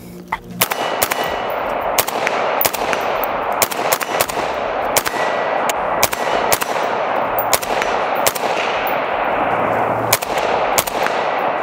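A SCAR 16S rifle fires a long string of sharp, loud shots at an uneven but quick pace, each crack followed by ringing echo, with no talk over them.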